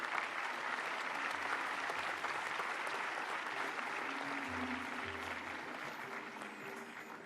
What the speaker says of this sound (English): A huge round of applause for ma'am.